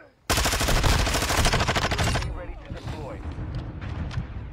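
Rapid automatic gunfire from a shooter video game, loud and close, bursting in sharply after a brief quiet and then giving way to softer scattered game sounds and movement.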